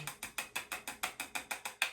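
Rapid bursts of makeup setting spray from a pump bottle, about ten quick hissing spritzes in a steady rhythm, close and fairly quiet.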